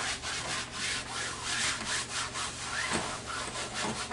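A cloth wipes down a varnished acrylic pour painting on a black canvas, making soft, close, repeated rubbing strokes in an uneven back-and-forth rhythm.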